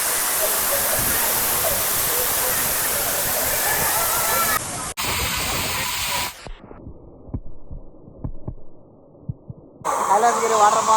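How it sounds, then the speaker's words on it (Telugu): Water pours at Kailasakona, a year-round waterfall near Tirupati, as a loud, dense, hissing roar heard close for several seconds. It then drops away through abrupt cuts to quieter passages before the rushing returns at the end. "కైలాసగిరి వాటర్ ఫాల్స్ దగ్గరికి అయితే వచ్చేస్తాము"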